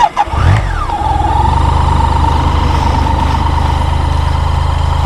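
A cold motorcycle with a loud aftermarket exhaust cranks and fires up, revs briefly, then settles into a steady, throbbing idle close by, with no talking.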